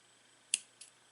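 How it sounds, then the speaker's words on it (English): Scissors snip through a knotted cord at the end of a handmade bracelet, two crisp close clicks about a quarter second apart, the first louder, in an otherwise quiet room. "I will take the scissors and cut"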